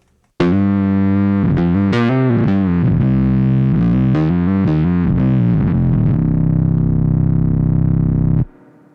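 Bowed violin run through a suboctave generator into the bright octave-up effect of an Argonaut pedal, giving a thick, slightly distorted synthetic tone across a steady melodic phrase that ends abruptly.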